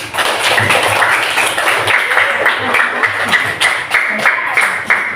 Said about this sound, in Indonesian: Ada tepuk tangan semua